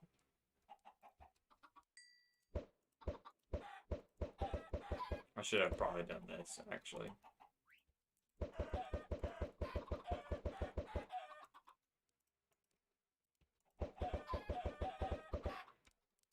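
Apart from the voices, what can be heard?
chickens clucking in a video game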